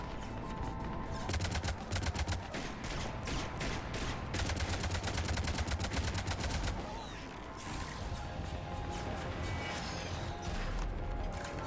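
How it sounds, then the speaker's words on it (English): Cannons and heavy gunfire boom in the Mass Effect 3 video game, with dense, continuous rapid blasts and crashes that stay loud throughout and carry a few bursts of louder volleys. "Cannons engaging."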